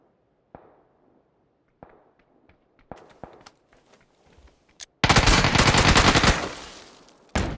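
Gunfire in PUBG: scattered single shots and footsteps, then a loud sustained burst of rapid automatic fire, followed by one more sharp shot.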